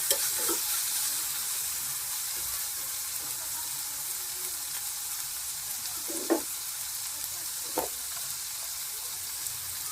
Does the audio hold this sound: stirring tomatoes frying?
yes